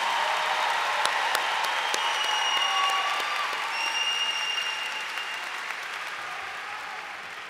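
Large audience applauding at a graduation, a dense, sustained wash of clapping that slowly fades.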